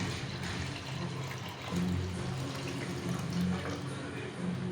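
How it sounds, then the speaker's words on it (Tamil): Water pours steadily into a pot with a continuous splashing rush, fairly close, with faint background hum. "இப்போ தண்ணியை ஊற்றிக்கலாம்"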